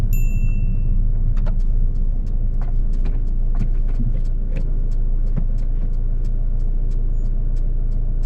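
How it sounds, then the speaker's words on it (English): Steady close rumble of engine and road noise from inside a car as it overtakes a bus on a UK road, with faint ticking clicks, probably the indicator, over the drone. "with the bus signaling left and enough space to overtake on the right, Mehdi checks his mirrors and signals"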